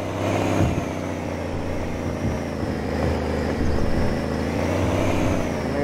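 Engine drone of a video game truck in My Truck Game, a steady mid-level hum with low rumbling harmonics and slight swells, running continuously with no talk over it.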